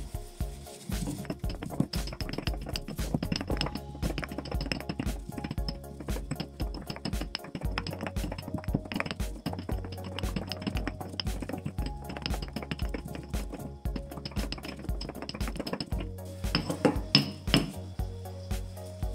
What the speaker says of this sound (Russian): В ступку кладу листья розмарина и тру до тех пор,